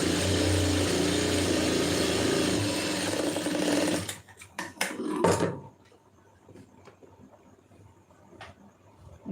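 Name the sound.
sewing machine running a stitch on fabric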